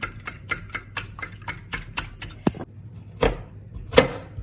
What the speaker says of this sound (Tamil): வெங்காயத்தை வந்து இப்போ சின்ன சின்னதாக வெட்டி எடுப்போம் இப்போ வெட்டி கொண்டு இருக்கிறாங்க